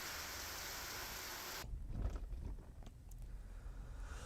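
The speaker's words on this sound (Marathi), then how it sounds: "भंडारदरा धरण परिसरात मागच्या 3 दिवसांपासून जोरदार पाऊस कोसळतोय" Heavy monsoon rain pours over the Bhandardara dam area in Maharashtra as a dense, steady hiss. It gives way to a rougher, lower rumbling wash that continues to the end.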